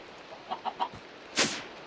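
Chickens in Minecraft give a few short clucks in quick succession, then a louder squawk, close and fairly quiet with no talk.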